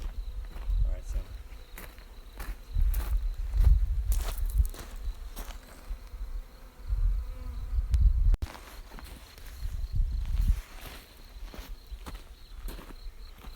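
Honey bees hum around an open hive during a day-three queen cage check, a faint insect drone beneath close, irregular thumps and shuffling of handling and footsteps.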